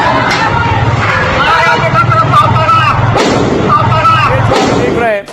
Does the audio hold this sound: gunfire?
yes